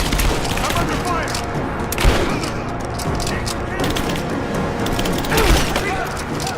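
Sustained gunfire in Rise of the Tomb Raider, a steady fusillade of shots with splintering impacts and louder bursts near two and five and a half seconds, layered with battle noise and voices.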